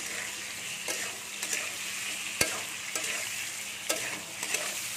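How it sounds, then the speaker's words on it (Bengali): Potatoes frying in a pan with salt and turmeric, a quiet continuous sizzle broken by occasional scraping stirs and a sharp tap of the utensil. "একটু হলদি আর একটু নুন দিয়ে আমি এটা একটু ভালো করে ভেজে নেবো"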